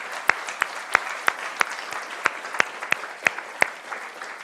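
An audience at a journalism lecture event claps for a few seconds. The clapping is steady and moderately loud, and individual sharp claps stand out above the general spatter of hands.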